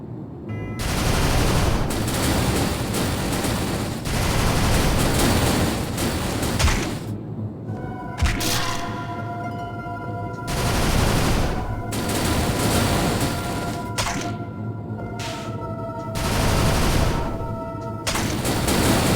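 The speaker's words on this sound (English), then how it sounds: "magic bombardments are enough." Magic bombardment spells exploding in the video game Void Memory, a dense sustained barrage of booming blasts with ringing tonal tails, heavy and continuous through most of the stretch and briefly easing between volleys.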